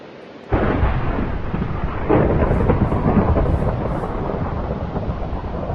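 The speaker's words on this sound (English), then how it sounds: "Thunderstorm right there somewhere." Thunderstorm in the Minecraft video game: after a brief quiet moment, a loud rumbling thunder roll breaks in over steady rain and keeps rolling for several seconds, with a second swell midway and no voices.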